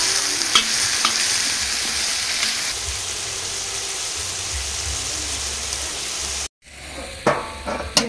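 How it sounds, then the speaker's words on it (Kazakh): Meat frying in a kazan over a campfire outdoors, a dense continuous sizzle with occasional stirring clatter, close and loud, cutting off briefly before a few scraping utensil sounds. "Етімізді 5-10 минутта қуырып аламыз."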